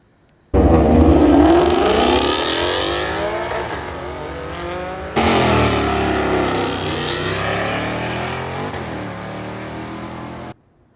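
A Ford S550 Mustang GT with a Corsa Xtreme cat-back exhaust revs and accelerates loudly and close by in two sweeping pulls, the engine note climbing through the gears with a throaty, rising roar.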